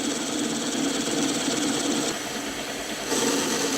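Metal lathe doing plain turning along the length of a workpiece, cutting it down toward a 30 mm diameter: a steady, close mechanical hum with a faint high whine, dipping slightly midway, then returning to full level.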